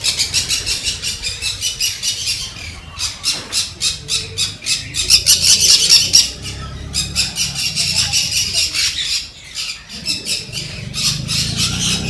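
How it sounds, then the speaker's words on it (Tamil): A big flock of birds squawks and chatters nonstop, loud and close, the shrill calls overlapping in dense bursts with brief lulls. Traffic or background noise rumbles underneath. "ஓ, நிறையா பேர்ட்ஸ் இருக்குங்க."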